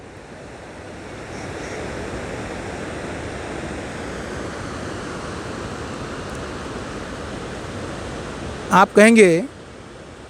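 A tall waterfall, its drop estimated at two to three kilometres, roars as a steady broadband rush throughout, with someone speaking briefly near the end.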